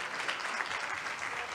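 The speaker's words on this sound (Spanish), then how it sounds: "Muchísimas gracias, fuerte aplauso para nuestros panelistas." Audience applause for the panelists closing a book presentation on Mexican municipalities at the Jalisco electoral tribunal: a steady, even wash of many hands clapping, moderately faint and heard alone without talk.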